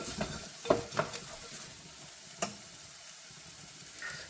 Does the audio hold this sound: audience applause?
no